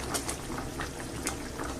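Mussels and fish stew bubbling steadily in a pot, a continuous soft simmering patter with small pops, close and fairly quiet, no voices.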